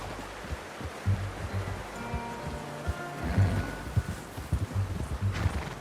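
Horse hooves clip-clopping in the video game Red Dead Redemption 2 while out bow hunting deer: a steady, close rhythm of soft thuds over outdoor ambience, with low voices partly underneath.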